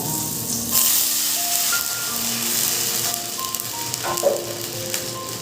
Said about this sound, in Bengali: একটু আমরাগুলো ফ্রাই করে নেব।